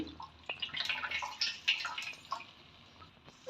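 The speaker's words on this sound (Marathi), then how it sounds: "कोथिंबीर पाण्यातून अशी चांगली धुवून घ्यायची" Fresh coriander leaves rinsed in water by hand in a home kitchen, with soft irregular drips, splashes and trickles close by, fairly quiet and without talk.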